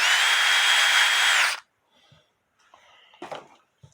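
A power drill spinning a toothpick to clean a cuckoo clock bushing whines steadily at high speed for about a second and a half, then stops, followed by faint scattered handling clicks and scrapes.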